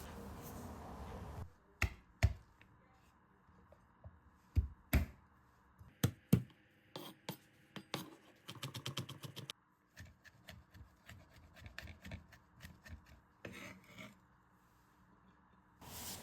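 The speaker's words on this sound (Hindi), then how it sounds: "बारीक बारीक चॉप कर लेंगे गार्लिक को" A whole head of garlic being finely chopped with a knife, sharp rapid chops in irregular bursts with quiet gaps, close and fairly soft, no talking.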